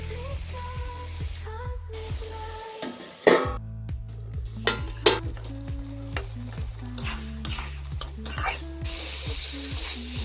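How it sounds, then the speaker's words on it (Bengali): Tomatoes, potatoes and spices for a prawn dish are stirred and fried in a pan, with a steady sizzle under repeated scraping strokes of a spatula and occasional clinks against the pan. "টমেটো দিয়ে নাড়াচাড়া করার পর টমেটো আলুর সাথে মশলাটা কষানোর জন্য"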